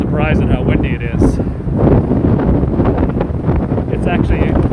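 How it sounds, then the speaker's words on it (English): Strong gusts buffet the microphone on a Manhattan street in December, a loud, rumbling roar that swells and dips continuously while a person talks over it. "I'm actually surprised at how windy it is"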